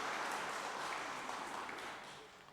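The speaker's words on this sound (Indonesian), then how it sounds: "Tepuk tangan." A church congregation applauds, a soft, distant wash of many hands clapping together that stays steady and then slowly fades toward the end.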